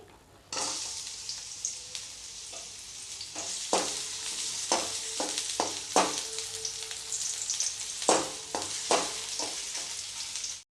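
Onions fry in oil with a continuous crackling sizzle, broken by frequent spoon scrapes and clinks against the pan as they are stirred.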